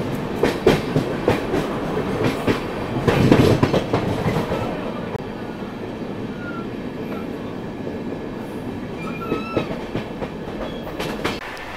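The Sealdah Bikaner Duronto Express runs on rails, heard from inside a first-class coach, with a rhythmic clickety-clack of wheels over rail joints and a steady rumble that is louder at first and then settles into a quieter rolling hum.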